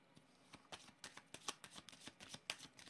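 Tarot cards are shuffled by hand in a quick series of soft, close riffling slaps and flutters, faint and with no talk.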